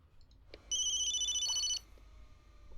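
A phone in the Memento Mori game rings once, a bright electronic warbling tone lasting about a second, standing out clearly over a faint background hum.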